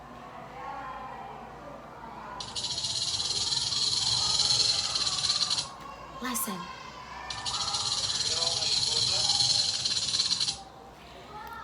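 A snake gives two long, sustained hisses, each a loud airy rush lasting several seconds with a short pause between, while a person says a word in the gap.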